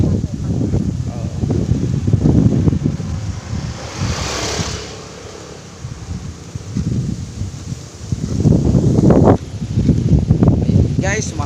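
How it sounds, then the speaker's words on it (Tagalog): Outdoor wind with light drizzle, gusting and buffeting the microphone in loud rumbling swells that ease off midway and return, with a person talking at times. "mahangin pa din at mayroong konting-konting ambon"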